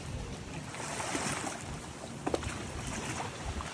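Sea waves washing near small local fishing boats in front of the naval base at Sattahip, Thailand, a steady broadband wash of surf with light wind and a couple of brief knocks, no talking.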